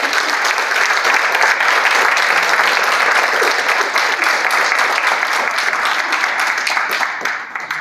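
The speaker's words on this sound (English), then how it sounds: "let's get another round of applause for our speakers" Lecture audience applauding at an ocean lecture event: steady, loud, sustained clapping from a large crowd that fills the whole stretch and tapers slightly at the end.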